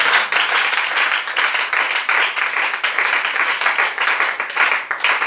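A congregation applauds for the Lord in a French-speaking church service, producing steady, dense, sustained clapping from many hands throughout, loud and close with no break.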